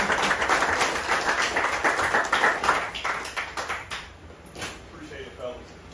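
A group of young football players claps for Coach Brown, a lively round of close hand clapping that gradually thins and fades, with a voice speaking near the end.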